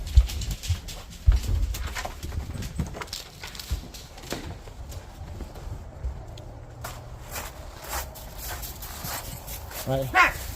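Dogs bark and whimper intermittently at a behavioral training session, mid-distance and fairly loud, mixed with people talking and general movement.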